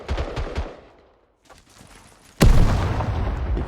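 Video game gunfire: a few rapid shots at the start, a quiet gap, then a sudden loud burst at about the midpoint that rolls into sustained heavy firing and rumble.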